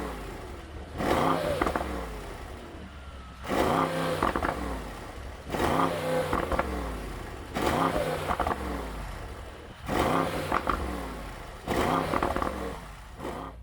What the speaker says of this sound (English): we're going to go into Sport Plus and we're going to give it some revs